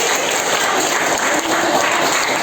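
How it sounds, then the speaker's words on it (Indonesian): A class at a school democracy session gives a short, steady round of clapping, a dense burst of many hands holding even loudness throughout. "Oke, tepuk tangan dulu."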